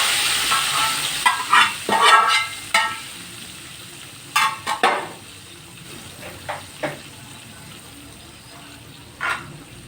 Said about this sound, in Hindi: ये जो हमने देसी घी तैयार किया है ये इसके ऊपर डालेंगे।